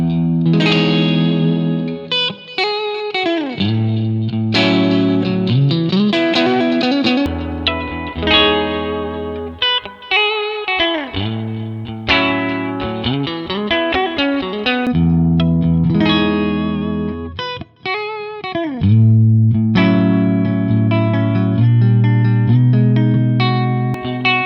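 Electric guitar played through a US Deluxe Vibrato amp model, the Fender Deluxe sound on a Line 6 HX Stomp or POD 2.0, meant to be clean. Sustained chords and melodic runs ring on for the whole stretch with steady loudness and a wet, effected shimmer.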